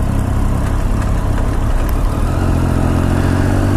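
A 2015 Triumph Street Triple motorcycle engine drones steadily while riding through Tokyo streets, a continuous loud mid-pitched hum with wind rush and no clear revving peaks.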